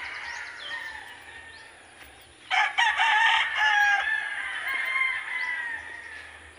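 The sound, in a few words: fighting roosters crowing and clucking on a farm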